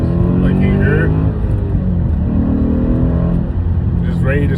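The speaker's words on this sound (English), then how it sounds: "6-speed, 420 horses, and a V8 motor that's built off the base of a R8 motor" A V8 Audi RS4 with a 6-speed and 420 horsepower, its engine derived from the R8's, holds a loud, steady, deep engine drone close by, while a person talks over it.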